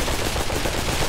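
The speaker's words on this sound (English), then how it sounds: "You're lucky I was out of ammo because I had to shoot you." Gunshots in the virtual reality zombie shooter Pavlov VR come as a dense, continuous roar of rapid fire, loud and unbroken across a brief moment.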